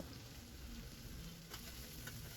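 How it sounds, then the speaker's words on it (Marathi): Vegetables for veg pulao sauté in hot oil with a soft, steady sizzle and a few crisp crackles, quiet and continuous with no voices. "आता या सर्व भाज्या तेलामध्ये दोन ते तीन मिनटं परतून घ्यायच्या आहेत"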